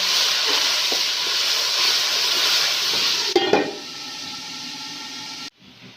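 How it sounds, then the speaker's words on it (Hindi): Steady, loud sizzling of onion paste frying in a hot pan, with a brief clatter of stirring partway through before the hiss drops lower. "हमने ये प्याज का पेस्ट बनाया है, ये शामिल कर दिया और इसे फ्राई करेंगे।"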